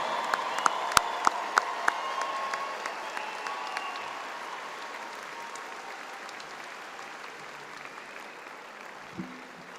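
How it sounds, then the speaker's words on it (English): A large commencement crowd applauds and cheers for new graduates in a big reverberant venue, with a few sharp nearby claps at the start before the broad applause slowly fades. "Give them a big round of applause."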